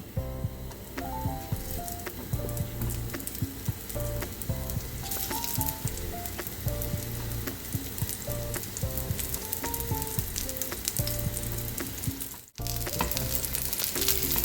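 Aloo tikki potato patties frying on a hot tawa griddle until crisp, a loud continuous close sizzle with crackles and soft spatter and a brief dip near the end, no talking.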